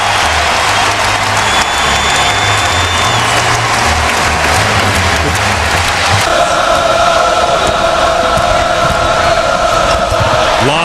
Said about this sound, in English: they are standing and cheering here at Allen Fieldhouse